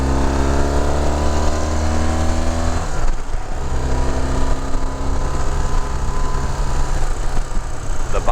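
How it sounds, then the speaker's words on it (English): A 1981 BMW R65S, a carbureted four-stroke flat-twin boxer motorcycle with dual exhaust, runs close by with a loud, throbbing engine note. The pitch shifts from a steady rev to a lower, rougher beat partway through. "Flat twin horizontally opposed 2 valves per cylinder, 4-stroke shaft drive engine, carbureted by two 32mm carburetors, 1 per cylinder, dual exhaust"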